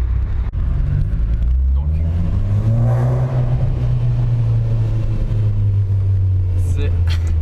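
An Abarth 500 fitted with a Ragazzon exhaust revs with a steady low engine drone that swells in the middle, close and loud, while someone talks over it.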